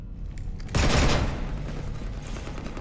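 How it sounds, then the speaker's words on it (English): Gunfire aboard a ship in the game Mass Effect 3, one loud burst striking at once over a steady rumbling combat backdrop, then fading into the ongoing noise. "You want to stop shooting up my ship?"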